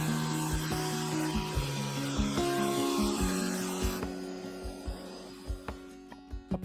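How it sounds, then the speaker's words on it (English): Sandpaper rubs against an oak segmented rim bowl with orange epoxy resin spinning on a wood lathe, over a steady motor hum with rhythmic soft thumps. "It takes around 6 to 8 passes to sand each side."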